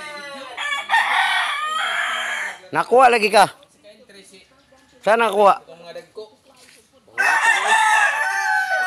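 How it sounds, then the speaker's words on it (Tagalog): Chickens on a farm, with two loud nearby rooster crows in the middle and stretches of clucking and squawking at the start and end, while people talk briefly between them. "May mga manok na."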